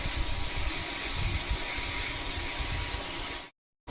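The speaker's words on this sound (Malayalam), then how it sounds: "ഇതിലേക്ക് നമ്മൾ ഈ അരിഞ്ഞു വെച്ച ചീരയും കൂടെ ചേർത്ത് കൊടുത്ത് സ്റ്റിർ ഫ്രൈ ചെയ്തെടുക്കുകയാണ്" Chopped spinach stir-fried in a pan, a steady close sizzle and hiss with low clattering stirring throughout, then abrupt silence at the end.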